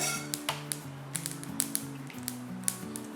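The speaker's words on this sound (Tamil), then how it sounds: "கடுகு வெடிக்க ஆரம்பிச்சிருச்சு." Mustard seeds splutter in hot oil while kara chutney is being cooked, throwing out rapid, irregular sharp pops and crackles over a steady background tune.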